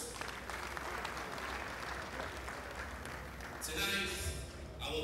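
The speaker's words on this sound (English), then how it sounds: "I think you all deserve a round of applause" Diners at an annual bankers' dinner break into applause, a broad wash of clapping that fills the room before giving way to a voice speaking near the end.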